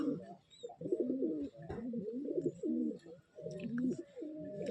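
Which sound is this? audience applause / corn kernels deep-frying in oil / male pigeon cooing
male pigeon cooing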